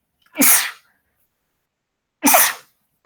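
Two sharp sneezes, about two seconds apart, burst out close and loud in a quiet room during a lecture on series electrical circuits, with nothing else heard between them.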